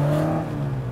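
A classic BMW 2002 engine idles with a steady low rumble and a faint whirring hum, close by and unbroken.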